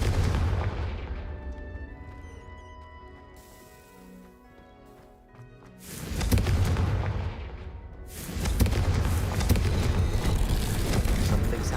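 Confringo blasting spell in Hogwarts Legacy, heavy booming bursts that rise to loud sustained rumbling blasts, with a quieter lull of tonal game sounds before them.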